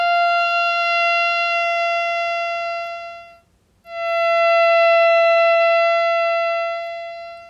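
A theremin holds one steady sustained note with bright stacked overtones, loud and alone, dipping to near silence briefly midway before swelling back at full volume.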